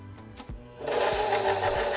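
Electric hand mixer beating masa dough for rajas con queso tamales, a steady loud motor whir that starts after a brief hum and bumps and runs continuously close by.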